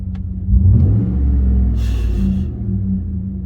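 GM Sierra pickup truck engine, fitted with a Banks Pedal Monster throttle controller in sport mode, revs up from a low rumble into a sustained, loud roar, holding for a few seconds before easing back.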